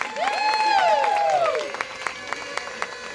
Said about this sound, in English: Can we get a round of applause for the jacket?